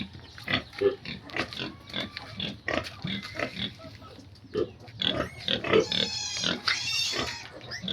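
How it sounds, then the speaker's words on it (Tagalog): Pigs grunting and snorting at feeding time on a rural backyard farm, with repeated short grunts in an uneven rhythm, close and fairly loud, plus a few higher squeals toward the end. "nagpakain po ako ng baboy"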